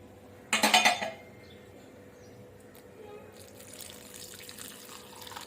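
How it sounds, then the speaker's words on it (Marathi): A short splashy burst of water poured into a bowl of batter, about half a second long, followed by quiet kitchen clinks and faint background noise. "याच्यामध्ये मी आता पाणी मिक्स करणार आहे"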